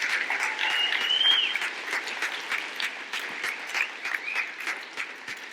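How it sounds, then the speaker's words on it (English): Audience at a charity gala award ceremony claps steadily in a dense, even round of applause, moderately loud, with a few faint whistles near the start and no speech over it. "can we please have another round of applause for all of our award recipients tonight?"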